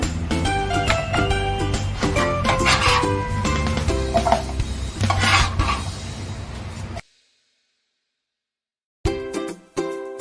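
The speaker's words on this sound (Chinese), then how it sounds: "你所有的凤梨都切成这个状态 ，OK？ 那我们就可以放入铁锅。" Diced pineapple pieces tumble into an iron wok with busy clattering and scraping for several seconds. A short silence follows, then a few more knocks.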